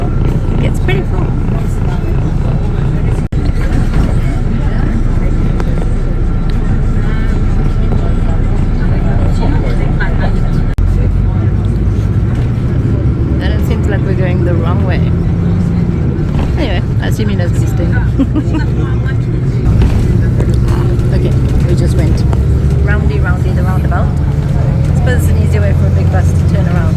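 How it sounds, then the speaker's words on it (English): Public bus riding along a highway near Port Louis, Mauritius, with a steady engine and road rumble heard from inside, mixed with a crowded cabin's babble and people talking throughout. "The bus actually stops on the side of the highway."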